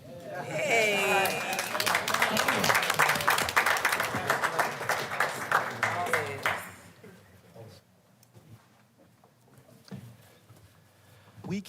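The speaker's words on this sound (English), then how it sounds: "Let's give them another round of applause." A meeting audience applauds students. Dense clapping runs for several seconds, then stops abruptly and gives way to a quieter room with faint talk and scattered noises.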